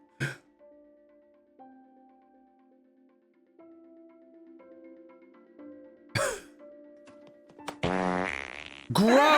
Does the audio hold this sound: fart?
yes